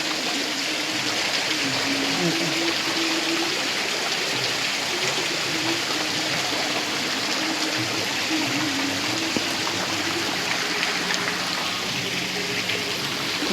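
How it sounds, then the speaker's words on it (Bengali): A fountain at the Lahiri Baba ashram, beside a large Mahadev statue, sends water splashing down in a continuous, dense rushing hiss that stays steady and fairly loud throughout. "ফাউন্টেনের জল এখানে ঝরে পড়ছে"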